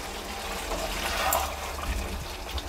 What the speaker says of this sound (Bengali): এবার আমি এর মধ্যে দিয়ে দেব ভেজে রাখা আলুর টুকরোগুলো।